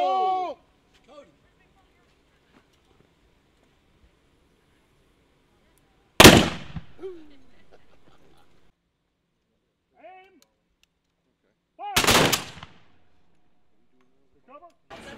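Two loud, sharp gunfire volleys of a salute ring out at a memorial unveiling ceremony, each followed by a lingering echo, with brief voices in between.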